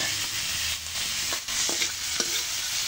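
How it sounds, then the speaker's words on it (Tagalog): Garlic or onion sautéing in a pan for a home-style adobo, a faint, low sizzle with a few soft stirring scrapes and clicks, no voices. "papagisa natin sa bawang o sibuyas"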